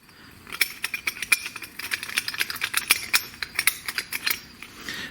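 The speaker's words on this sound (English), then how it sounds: "But here are my noisy rattles." An old exhaust cutout on a Hyundai Tiburon, fitted years ago, rattles in quick metallic clinks and jangles, irregular bursts of close, bright tapping for several seconds.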